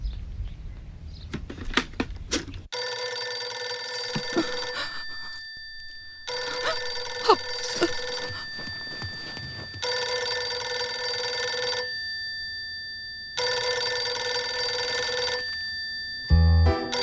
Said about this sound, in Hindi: अरे फोन उठाओ माँ, मुझे आपसे बात करनी है।